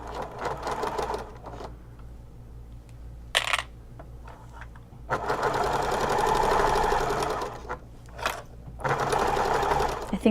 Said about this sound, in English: So I sew a little under a 1/4 inch.